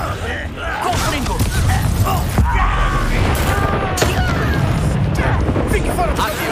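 Confringo blasting spell in Hogwarts Legacy, dense loud explosions and crashing impacts rolling continuously through a chaotic battle, with shouted voices mixed in.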